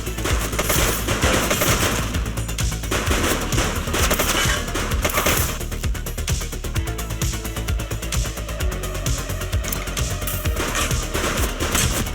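Sustained machine-gun style gunfire from The Precinct police video game, rapid shots rattling continuously for about twelve seconds at steady loudness, close and dense with no talk.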